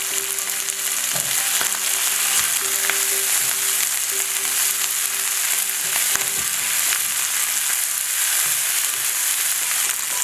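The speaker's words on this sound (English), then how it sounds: "Now I'll add in the white of the bok choy, some of the carrots," Bok choy whites and carrots hit a hot pan and stir-fry with a loud, steady sizzle, punctuated by occasional scraping and clinking of the utensil.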